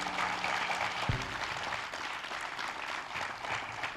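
Audience applause fills a hall during a motivational talk, steady dense clapping that holds at a fairly even level from start to finish, with a faint tonal sound at the very beginning.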